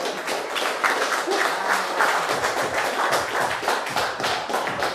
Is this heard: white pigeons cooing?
no